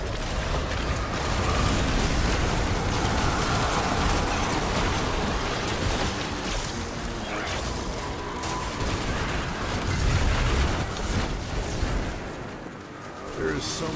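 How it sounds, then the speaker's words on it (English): Continuous dense barrage of explosions and mechanical clatter from a video game firefight while farming a Nightfall, loud and rumbling with no gaps throughout. "There is so much explosion."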